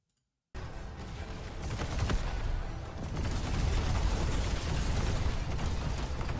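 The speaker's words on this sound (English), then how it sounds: "The explosion still looks so much better." Loud explosion in the Endfield video game, starting abruptly after a brief silence and rolling on as sustained rumbling blasts with crackling debris, no talk.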